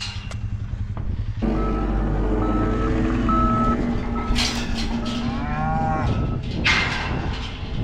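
Cattle moo loudly and repeatedly as they are gathered from pasture, with overlapping calls from several animals. A vehicle's reversing beeps and engine hum run underneath.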